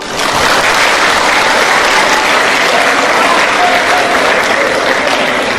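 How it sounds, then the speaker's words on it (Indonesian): Sustained applause from a large audience of students at an Islamic boarding school gathering, loud and dense, holding steady throughout without a break. "Beri tepuk tangan dulu."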